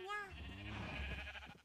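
Blocky sheep bleats in the Minecraft video game, a short wavering animal cry heard close and clear over a faint low background hum, with no talking.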